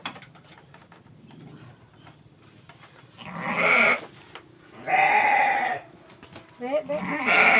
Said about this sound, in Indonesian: Ini sahabat, kambingnya yang sudah biasa banyak sekali ya.